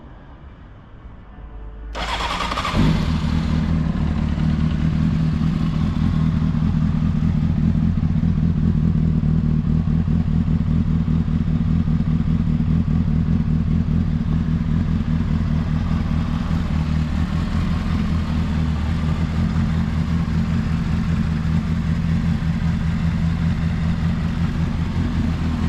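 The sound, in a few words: Honda motorcycle engine running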